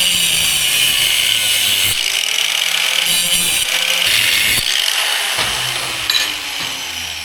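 Steady, loud abrasive cutting grinds through a tack-welded metal piece for a bump-stop bar rail, holding continuously for several seconds with brief dips as the tool shifts, close up with no talk.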